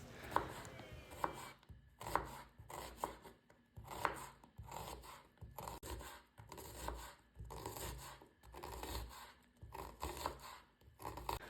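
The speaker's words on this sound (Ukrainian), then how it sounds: "Далі я беру дві середніх цибулини та нарізаю їх напівколечками." A knife chops two medium onions into half-rings rhythmically on a cutting board, sharp knocks repeating about every second with brief pauses between bursts, close and clear.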